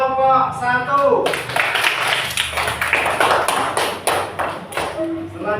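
Classroom applause for a student group: a sustained burst of many hands clapping, fairly close and loud, following a teacher's speech and lasting several seconds.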